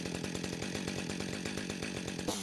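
A high-quality chainsaw cuts a mortise into the base of a heavy wooden corner post, engine running steady and loud with a rapid chain rattle, rising briefly at the end.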